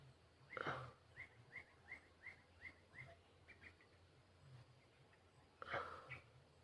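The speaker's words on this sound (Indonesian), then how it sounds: "burung-burung." Birds chirp among trees on a calm morning, one small bird repeating a quick, light call about a dozen times in an even rhythm, fairly distant and quiet over soft background hush, with a couple of louder rustling bursts.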